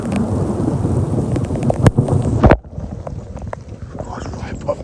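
Thunder rumbles overhead in a storm with rain, a loud continuous roll and a sharp crack near the middle before the rumble drops to steady rain; a voice is heard faintly beneath.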